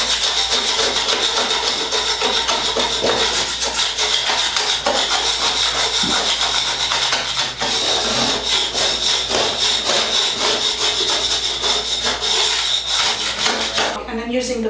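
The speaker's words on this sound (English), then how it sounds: "I'm going to scrape off the flakes." Paint flakes being scraped off wood with a steady, close, rhythmic rasping and scratching that continues without a break, with faint talk in places.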